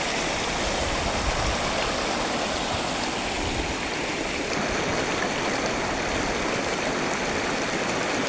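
A river fed by waterfalls near Dahivali village rushes steadily, a dense, even, close wash of flowing water that continues unbroken with no voices.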